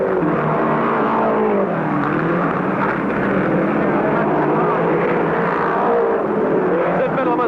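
Speedway race cars roar past on a track during a race, a loud continuous engine drone with shifting pitch that holds steady throughout, heard alongside a race commentator's voice.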